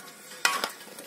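Chabanuri, a cheese-filled pastry, frying in a pan, heard as a soft background sizzle punctuated by two sharp stirring or utensil scrapes close by.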